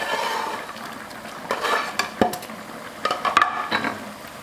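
Dough pieces deep-frying in hot oil over medium-high heat, with a steady soft sizzle under clinking and scraping as chopsticks stir them in the pot, close and alone with no talk.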